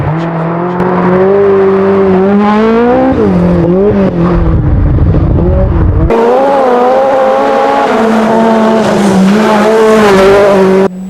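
Peugeot 205 Turbo 16 Group B rally car, mid-engined and turbocharged with over 450 horsepower in Evolution 4 form, its engine revving hard and rising and falling through the gears, loud and close, with a brief cut partway through.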